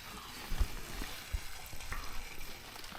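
Carrots, onions, mince and gravy with seasoning, herbs and spices simmer in a pan, a soft steady sizzle and bubble with a few louder low thumps of stirring near the start and middle.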